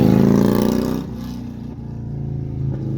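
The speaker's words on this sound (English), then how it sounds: "like sounds like this motorcycle." A motor vehicle engine, presumably a motorcycle, drones loudly nearby and then drops in pitch and volume as it moves off, with its rumble continuing steadily afterward.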